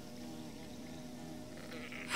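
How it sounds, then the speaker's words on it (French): Bees in the video game Hollow Knight give off a faint, steady insect buzz, a continuous low drone sitting quietly in the background, with a brief louder noise at the very end. "il y a un petit bruit d'abeilles quand même"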